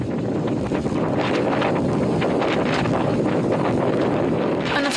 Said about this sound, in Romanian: vântul care suflă cu putere